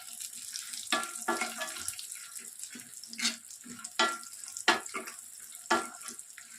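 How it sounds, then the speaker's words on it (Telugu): Almonds frying in a pan for carrot halwa, a soft crackling sizzle with intermittent louder pops and clatters, fairly close and with no voices. "లైట్గా బ్రౌనిష్ కలర్ వచ్చేంత వరకు వేయించుకోవాలి ఫ్రెండ్స్."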